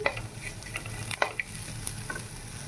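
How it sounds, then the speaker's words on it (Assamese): Dried fish fries in a pan over low heat, giving a soft steady sizzle broken by several sharp stirring scrapes and clicks of a utensil against the pan. "এতিয়া মই ভাজি আছোঁ"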